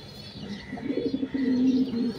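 Pigeons in a loft, including an upright-necked male and a plain-colored hen, give soft, repeated cooing close by that swells into a steadier, louder coo toward the end, with no talking.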